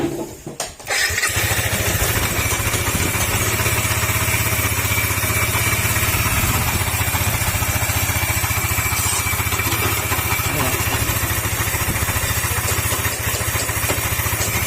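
A Yamaha NMAX 155 scooter engine starts up and runs steadily at idle with a loud, constant drone and a rough, grinding mechanical undertone, close by with no talking.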